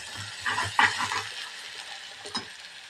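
Mutton curry with ginger garlic paste and turmeric being stirred in a pan, a few soft scraping and sizzling strokes at close range followed by quieter stretches.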